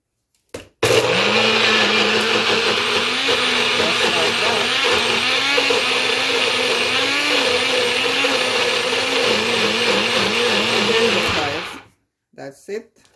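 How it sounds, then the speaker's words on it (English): A countertop blender whirs steadily at full power for about eleven seconds while blending green seasoning with water, then cuts off abruptly, leaving a couple of faint clunks from the lid or cup. "I'm going to start the blender."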